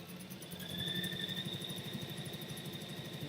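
A sewing machine stitching a side seam, running steadily with a fast, even mechanical chatter and a faint whine, close and continuous throughout.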